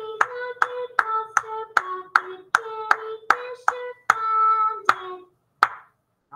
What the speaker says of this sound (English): Clap your rhythm.